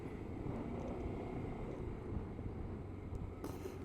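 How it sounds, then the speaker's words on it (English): A large airplane passes overhead in west Tokyo as a low, steady rumble with light wind noise, distant and faint throughout. "Giant airplane above me."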